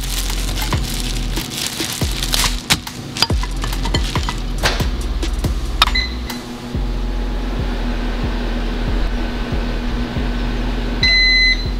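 A kitchen microwave oven beeps in two short bursts, one midway and one near the end, over a steady hum and scattered clinks and knocks of kitchen handling close by.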